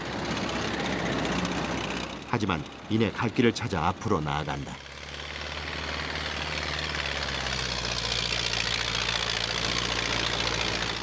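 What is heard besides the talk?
tractor engine spinning and idling on frozen snowy mountain road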